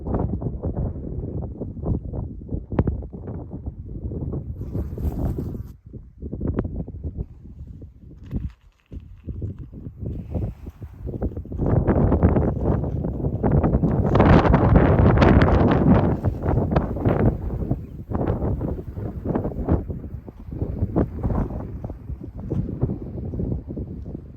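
Strong gusty wind roars across an open desert landscape at Big Bend Ranch State Park, buffeting the microphone with steady rumbling that surges louder midway, with footsteps or hoof-like thuds scattered underneath and no talking.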